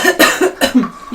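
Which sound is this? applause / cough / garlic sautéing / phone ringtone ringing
cough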